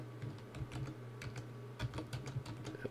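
Fingers type a command on a computer keyboard during a Linux software install on Ubuntu 12.04, a quick run of close, crisp key clicks with short pauses and no talking.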